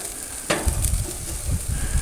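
Garlic and onion sizzle on a barbecue grill in a steady, close crackling hiss, with a sharp scrape or flick partway through and soft low bumps beneath.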